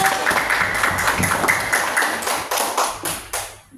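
Children in a classroom clap for a group presentation, a quick run of sharp, slightly uneven handclaps up close that thins out and stops near the end.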